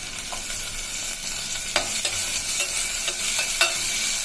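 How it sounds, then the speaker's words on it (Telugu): Onions frying in hot oil for a prawn curry, a steady broadband sizzle throughout with a few soft clicks and stirring scrapes, close and moderately loud, no talking. "బాగా ఆనియన్స్ బాగా ఫ్రై అవుతుందండి"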